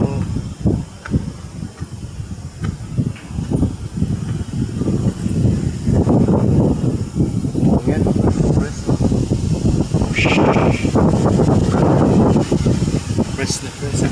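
Strong wind blows by the sea on a mountainside near a shrine in Maasin City, Southern Leyte, roaring and buffeting steadily and loudly throughout, with people talking at times.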